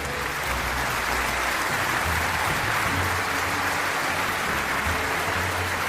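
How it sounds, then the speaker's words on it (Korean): Audience applause welcoming two guests onto the stage at a corporate donation ceremony, a continuous dense roar of clapping with a low rumble underneath, even and unbroken throughout. "큰 박수로 환영해 주십시오"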